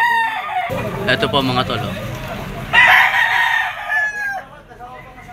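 A green-legged Talisay gamecock stag crows in a long drawn-out call at a Lipa, Batangas fighting-cock market, with other roosters and clucking fowl around and someone talking over the birds.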